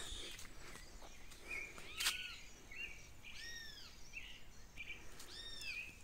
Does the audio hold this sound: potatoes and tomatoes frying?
no